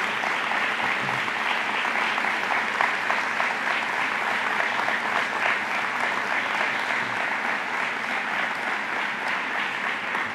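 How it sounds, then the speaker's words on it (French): A seated hall audience at a political party meeting applauds at length, a steady, even wash of clapping that holds at moderate level without speech over it. "j'inviterai la salle à les applaudir"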